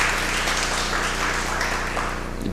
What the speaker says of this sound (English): yes, just clap for yourself.